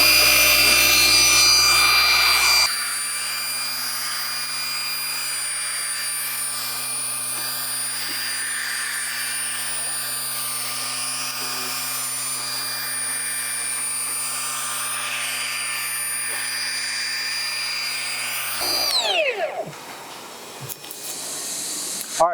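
Power polisher works buffing compound across a boat hull, a continuous high-pitched whine and hiss running steadily for long stretches before winding down near the end.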